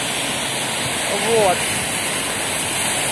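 Steady rain falls on a rainy day in Cheboksary, a constant even hiss close by, with a brief spoken word partway through.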